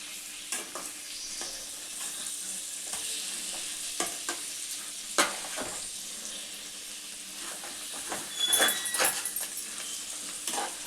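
Korameenu fish curry in Telangana-style iguru simmers and sizzles in a pan while a spoon stirs through it, giving a soft continuous fry with intermittent scraping clinks and a busier clatter near the end. No one speaks.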